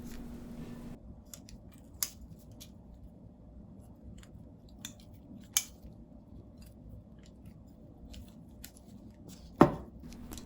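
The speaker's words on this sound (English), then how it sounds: "cut it into a few small pieces. Using scissors will help a lot." Sharp, isolated snips of scissors cutting crisp dried seaweed, a few scattered clicks with one louder cut near the end, in an otherwise quiet room.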